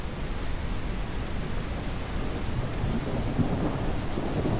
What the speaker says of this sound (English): this is heavy downpour